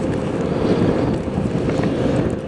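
Strong wind blows steadily across the microphone in a continuous loud, rumbling roar lasting the whole moment, with no voices heard.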